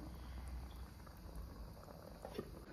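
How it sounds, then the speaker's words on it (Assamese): Chicken boiling in water in a pot, a faint, steady bubbling simmer with a low rumble, heard close and alone. "উতল আহিছেই এতিয়া উতলিবলৈ দিওঁ ধুনীয়াকৈ ভালকৈ সিজিবৰ কাৰণে"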